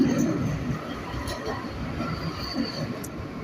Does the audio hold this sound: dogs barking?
no